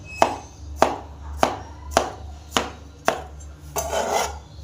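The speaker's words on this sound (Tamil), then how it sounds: "ஜெல் பீஸை எடுத்துங்க எடுத்துக்கிட்டு நம்ம சின்ன சின்ன பீஸாக கட் பண்ணிக்கலாம்" Aloe vera gel being cut into small pieces with a knife: six crisp, evenly spaced chops about half a second apart, close and distinct, then a softer scraping rub.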